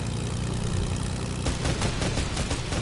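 Video game gunfire bursts out in rapid, dense rattling volleys over a constant engine-like drone, getting sharper and more clustered in the second half, loud and near with no talking.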